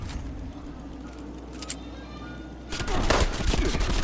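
Base camp turrets in Fallout 76 open fire in a loud, dense burst of rapid gunshots that erupts after a quieter stretch of low game rumble and scattered faint clicks.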